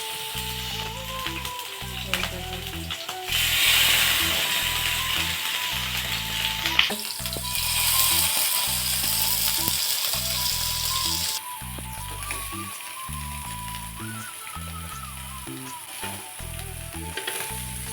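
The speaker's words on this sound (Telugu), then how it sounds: "కలుపుకున్న ముక్కలు ఒక్కొక్కటి వేయించుకుందాం." Marinated fish pieces sizzle as they fry in a pan, a loud continuous crackle that surges as pieces go in and settles into a steady hiss with occasional stirring clatter, no voices.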